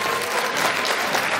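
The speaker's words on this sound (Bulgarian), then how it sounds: "Аплодисменти за шеф-готвач Кирило от Русе." An audience applauds a chef at a tourism school anniversary event, dense steady clapping throughout with no talking.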